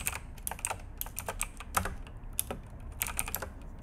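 Quiet, steady clicking of keys on a computer keyboard while code is typed, close and fairly soft, with quick irregular keystrokes and no talking.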